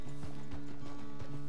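Horse hooves clip-clop at a steady trot in the Red Dead Redemption 2 video game, a run of close, regular thuds over a low tonal game bed with no talk.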